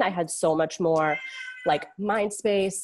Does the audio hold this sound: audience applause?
no